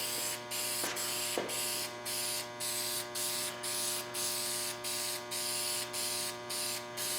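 Harley Davidson parts getting light coats of spray paint: a run of short, even hissing bursts roughly every half second, close and steady over a constant background hum.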